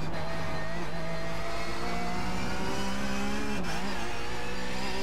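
A Porsche Cup race car in iRacing at Road Atlanta, a continuous loud engine whine with shifting revs that dips as it brakes, heard close and alone.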